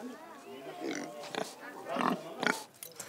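Three pigs and five piglets in Peru grunt and oink in several short bursts, close by, with a voice speaking over parts of it.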